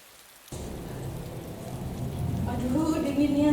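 Steady rain starts abruptly and keeps falling as a dense hiss, growing slightly heavier, with a tonal hum rising underneath near the end.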